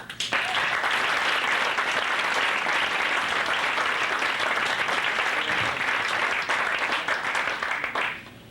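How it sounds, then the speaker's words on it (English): A comedy club audience breaks into loud, dense applause for a stand-up comedian, a full steady roar of clapping that holds for about eight seconds before dropping off abruptly. "A big round of applause for Coco Lee"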